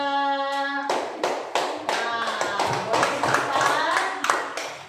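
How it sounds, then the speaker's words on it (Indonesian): Classmates applaud in a classroom after a group's presentation, with brisk, uneven hand claps filling several seconds after a sustained tone fades out. "Kita kasih aplaus ya."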